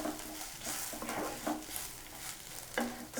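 Fried brinjal is stirred with garlic chili powder in a pan, giving a run of scraping, clattering stirring strokes over a soft, steady sizzle, close and fairly quiet, with no voices.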